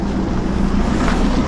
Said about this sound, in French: Avec le bruit du vent.